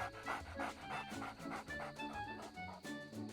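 A dog pants rapidly and rhythmically, close up, with quick breathy huffs repeating steadily throughout.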